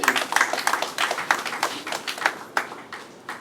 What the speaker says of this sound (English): I think a round of applause for the CMD and his team